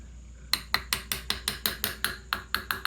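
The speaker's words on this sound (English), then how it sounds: "Sometimes a little tapping helps. Important note, tapping. I use the hammer" A hammer taps the clutch plates of a 2004 Honda VLX 600 motorcycle into alignment, giving about a dozen sharp, ringing metallic taps in a steady, fairly quick rhythm, close and clear against quiet.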